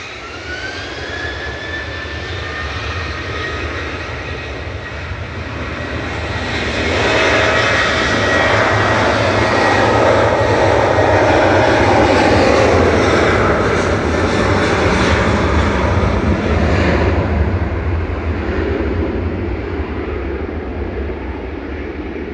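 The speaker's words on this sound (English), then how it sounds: "We're going to go on with the Qatar departing tonight" A Qatar Airways jet departs Manchester Airport at night with a powerful jet-engine roar. It swells to a loud peak mid-way, then slowly fades, with no talking.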